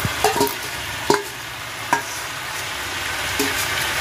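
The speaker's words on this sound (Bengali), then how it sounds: "ডালটা দিয়ে দেবো, একটু নেড়ে চেড়ে নেবো," Boiled dal tipped into a hot pan of spiced, fried mixture and stirred, giving a steady sizzle with a few sharp spoon scrapes and knocks against the pan, close up and with no talking.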